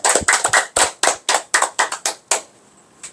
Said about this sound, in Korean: 박수 한번 더 쳐주세요